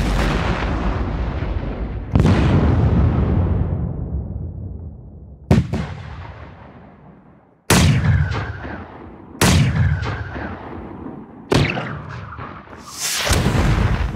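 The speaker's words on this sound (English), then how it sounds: "Ooh, some gunshots." Gunshot sound effects from the Sample Logic Trailer Xpressions II cinematic trailer sample library: six booming, sharp shots with long reverberant tails, spaced a couple of seconds apart, loud and alone.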